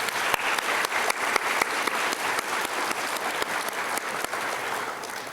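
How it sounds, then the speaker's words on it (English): Steady audience applause fills the room at a youth scholarship program event, dense clapping holding at an even level throughout with a few louder individual claps standing out near the front. "let's give them a round of applause"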